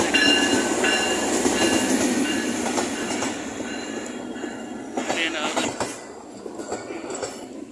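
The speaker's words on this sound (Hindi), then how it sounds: "देखें ट्रेन आ गई है" A passenger train pulls into a station, its steady rolling rumble and rail noise fairly loud and continuous, with occasional clanks and squeals, easing off toward the end.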